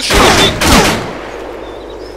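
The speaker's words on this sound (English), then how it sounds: "Someone's shooting!" A rapid burst of gunfire in the video game Escape: Sierra Leone, two loud clustered volleys in quick succession followed by a fading echoing tail.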